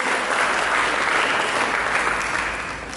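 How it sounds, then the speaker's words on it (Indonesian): A crowd at a church service claps loudly and steadily for a few seconds, the applause fading slightly at the end. "Berikan tepuk tangan yang meriah bagi Tuhan Yesus."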